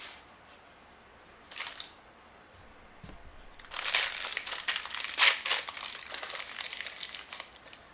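A paper wrapper crinkles and rustles as it is pulled off a Star Wars Black Series action figure from plastic-free packaging, starting with faint scattered rustles and then louder bursts of crinkling.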